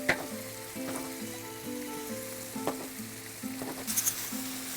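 Sausage and red peppers fry in olive oil in a pan, giving a steady soft sizzle with a few crackles. Background music plays throughout.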